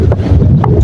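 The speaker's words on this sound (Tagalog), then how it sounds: "Malakas pa talaga mga katropa yung hangin ngayon." Strong gusting wind buffets the microphone outdoors on a boating outing, a steady low rumble with brief swells and no voices.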